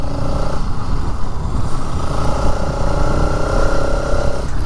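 A 2025 Bajaj Pulsar RS 200 motorcycle engine runs loud and close while being ridden, a steady droning hum with shifting pitch and road rumble underneath.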